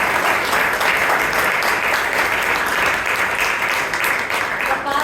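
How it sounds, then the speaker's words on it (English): Sustained audience applause at a Bangalore Toastmasters Club meeting with a Valentine's Day theme, many hands clapping in a dense, even wash that holds loud for several seconds. "So let's give them a big round of applause."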